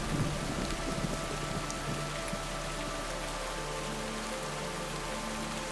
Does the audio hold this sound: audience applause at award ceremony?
no